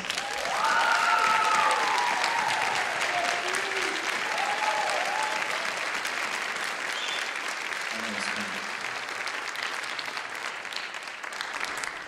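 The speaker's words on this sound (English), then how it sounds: "I think Dustin deserves one more round of applause." A concert band audience applauds in a college community hall, sustained even clapping across the room, with a faint instrument tone briefly rising near the start.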